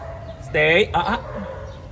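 A dog gives a couple of short, sharp yips up close, one right after another, over a faint background hum.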